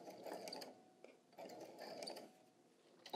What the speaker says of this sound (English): So start sewing.